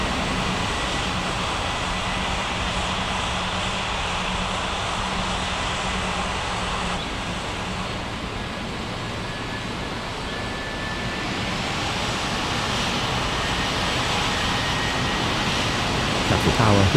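A flight simulation game's airliner engine drones steadily and loudly during pushback at an airport, a broad continuous roar with little change.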